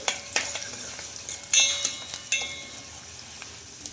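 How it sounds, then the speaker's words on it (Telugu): Tempering of garlic, urad dal and chana dal frying in oil, a light sizzle broken by several sharp clinks and scrapes of a spoon against the pan, close by, with no talk. "ఈ పోపులన్నీ కొంచెం బాగా ఫ్రై అవ్వాలి"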